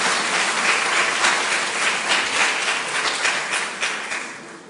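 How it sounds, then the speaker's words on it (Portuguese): Sustained audience applause for volunteers at a science-and-spirituality debate event, a dense steady patter of many hands clapping for several seconds, fairly loud and close, gradually thinning toward the end. "Uma grande salva de palmas para eles também."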